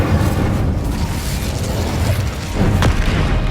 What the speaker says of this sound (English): Defender! Confringo! Expelliarmus! Incendio!